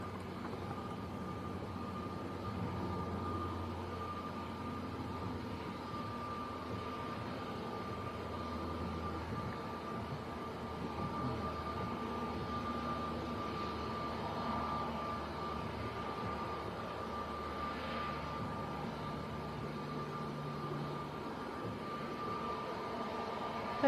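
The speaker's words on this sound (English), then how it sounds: "we're going to have Pegasus A321neo coming down our favourite taxiway" A Pegasus Airbus A321neo taxis along a taxiway at Manchester Airport, its jet engines a steady distant hum and whine that holds evenly throughout with little change, no voices on top.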